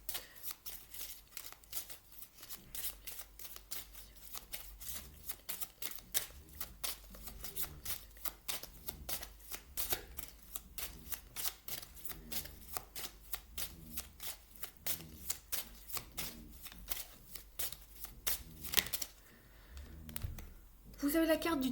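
Tarot cards are shuffled by hand in a long run of quick, crisp riffling flicks, close and steady, with a brief pause and a few handling sounds near the end, under soft talk.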